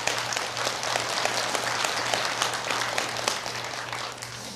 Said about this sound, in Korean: 우리 한번 박수 한번 보내드립시다.